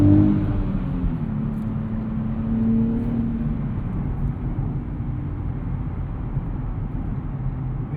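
A 2025 Nissan Z with a twin-turbo V6 and six-speed manual hums along in a steady, fairly loud engine drone, slightly louder at first and then settling into an even cruise with no talk.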